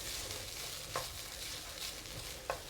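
Onions, garlic and dried shrimp stir-frying in a pan over medium heat: a steady, faint sizzle with a couple of brief scrapes of stirring, quiet and without talk.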